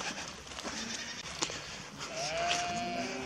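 A ewe bleats on a farm while giving birth near a donkey, with a few rising, drawn-out calls at moderate distance over a steady background of outdoor noise.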